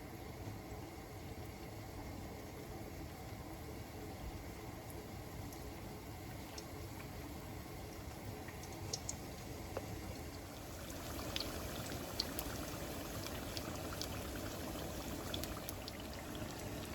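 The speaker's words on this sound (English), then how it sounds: "We're going to fry them until golden in hot oil, about an inch high in the pan." Somali sambousak pastries frying in about an inch of hot oil in a pan give a faint, steady bubbling sizzle with scattered soft pops, close and continuous without any talk.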